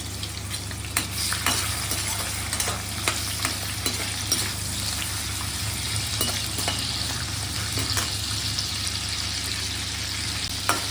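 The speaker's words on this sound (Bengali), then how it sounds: "এবার চিংড়ি মাছগুলিকে আমি হালকা করে ভেজে নেব" Prawns fry in hot oil in a home kitchen, giving a steady loud sizzle with occasional sharp crackles and stirring clinks across the whole stretch, with no voices.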